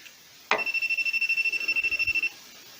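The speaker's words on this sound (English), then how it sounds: "not supposed to beep" A rapid string of high electronic beeps pulsing in quick succession for about two seconds, then stopping abruptly.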